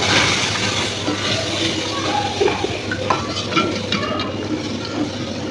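Gram flour batter being stirred in a kadhai over low heat, a continuous close scraping and swishing with faint clicks of the spoon against the pan, steady throughout with no talk.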